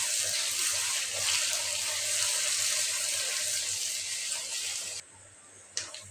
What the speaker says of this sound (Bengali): পেঁয়াজ দিয়ে দিব। পেঁয়াজটা দিয়ে আমি একটু লাল করে ভেজে নেব।